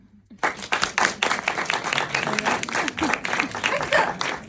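A stand-up comedy crowd bursts into loud, sustained applause after a sudden start, answering a show-of-hands style poll, with scattered voices and cheers mixed into the clapping.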